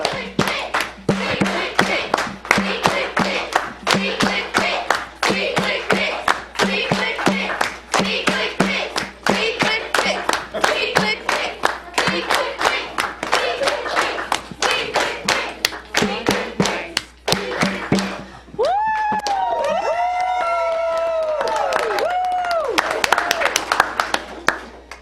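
Audience at a city council meeting claps steadily and rhythmically for about eighteen seconds, loud and close, then the clapping gives way to a sustained tonal sound with voices mixed in.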